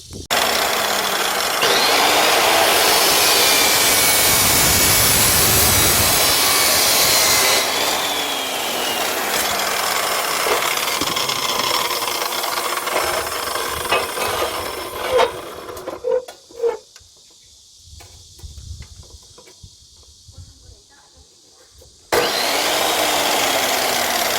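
A power tool cuts materials for the four legs of a homemade insect light trap. It gives a loud, steady cutting roar, drops to quieter knocks and handling sounds for a few seconds, then starts cutting hard again near the end.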